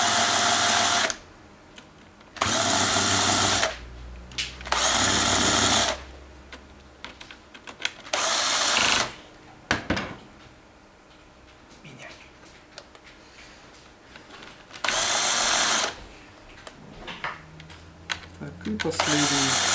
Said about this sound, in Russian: шуруповертом.